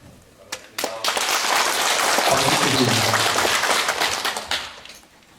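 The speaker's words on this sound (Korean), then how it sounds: "다시 한번 크게 박수 주시면 감사하겠습니다" Audience applause at a national Yun Dong-ju poetry recitation contest in Gwangyang, rising quickly after a few scattered claps and holding as a dense, loud wash of clapping for several seconds before tapering off.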